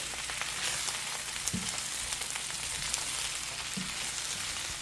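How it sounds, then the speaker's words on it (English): Jerk salmon fried rice sizzles and fries in a pot while being slowly stirred and folded, a soft steady crackle with occasional scraping thumps, alone without talk. "Just take your time and stir it, fold it nice and slow."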